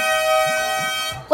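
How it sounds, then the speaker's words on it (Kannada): A vehicle horn blasts in one long, loud, continuous honk that stops abruptly, followed by a brief thump. "ಯಾಕೆ ಹಾರ್ನ್ ಹೊಡೆದು ಡಿಸ್ಟರ್ಬ್ ಮಾಡ್ತೀರ"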